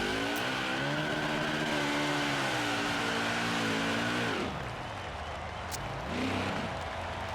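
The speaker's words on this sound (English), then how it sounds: "We're going to do a burnout" A stock car in NASCAR Heat 5 revs hard through a sustained burnout, its loud engine drone rising and wavering before dipping into a lower throttle change, with tire hiss and a sharp click near the end.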